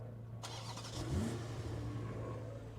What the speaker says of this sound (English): Now I'm gonna start the engine.